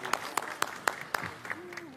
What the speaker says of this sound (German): Applaus bitte für den ersten weiblichen Oberbürgermeister von Köln.